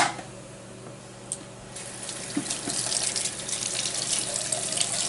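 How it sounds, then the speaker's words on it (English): Tap water runs into a sink while a makeup brush is rinsed and swirled, a soft steady splashing that grows slightly louder, with a few small knocks and swishes. "I'm just swirling it, and the water's coming out as I'm swirling it."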